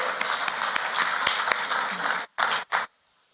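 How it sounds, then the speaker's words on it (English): A crowd at a hospital fundraising event claps steadily for a couple of seconds, then the applause breaks into a few last scattered bursts before stopping. "So round of applause for those three"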